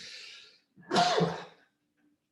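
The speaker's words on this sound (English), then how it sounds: "hold on, I gotta sneeze" A single sharp sneeze with a quick inhale before it, close and fairly loud, then quiet.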